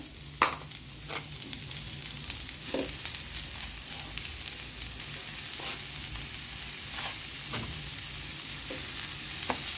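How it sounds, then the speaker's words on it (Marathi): Tomatoes and onion sauté in a pan for butter chicken, a steady soft sizzle running throughout with occasional louder scrapes and stirs of a utensil against the pan, fairly quiet and close, no talking. "टॉमॅटो पण चांगला परतून घेऊया नरम झाला पाहिजे"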